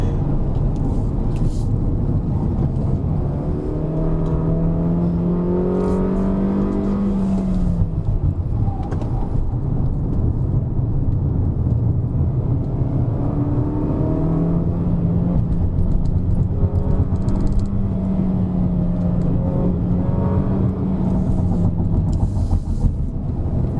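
A Peugeot 3008 SUV engine drones steadily while driving, its pitch rising and falling as the vehicle accelerates and eases off, loud and close with constant road noise.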